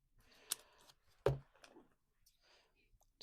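Scissors snip through paper being trimmed down for a glue book collage, a few quiet cutting clicks heard close and sparse, with one sharper snip standing out amid faint handling noise.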